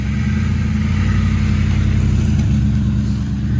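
A 2004 Ford Explorer's 4.6L V8 idles and revs through a Cherry Bomb glass pack muffler, a loud, deep, steady exhaust rumble with a slight dip near the end and no talking.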